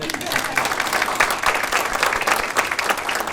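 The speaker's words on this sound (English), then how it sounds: "You can clap." An awards ceremony audience applauds steadily, many hands clapping in a dense, continuous patter that holds for several seconds.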